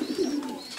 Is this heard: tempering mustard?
no